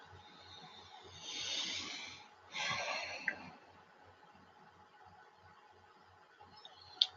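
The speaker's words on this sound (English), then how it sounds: "So let's go ahead and take in a breath." A slow, deep breath is drawn in and released, soft and close, as two breathy swells over a faint low rhythmic pulse, ending with a small click.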